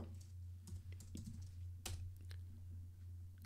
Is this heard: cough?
no